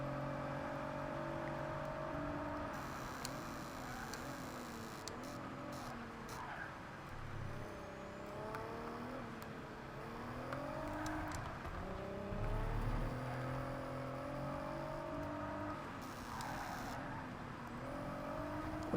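A Nissan Z sports car racing in Project Cars 3, its engine droning and rising and falling through repeated revs and gear changes at a steady, fairly quiet level, with no talking over it.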